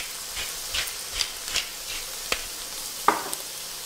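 Tomatoes and eggs cook gently in a pan for Portuguese-style scrambled eggs, giving a soft steady sizzle with occasional small pops and brief stirring scrapes, close and fairly quiet with no talking.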